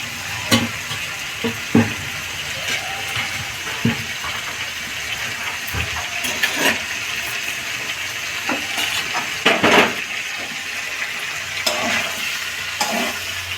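A spatula stirring bori (lentil dumplings) and cauliflower curry in a pan, steady sizzling with repeated scraping knocks against the pan, close and without speech.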